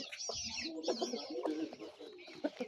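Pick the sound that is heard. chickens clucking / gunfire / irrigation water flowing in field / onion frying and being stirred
chickens clucking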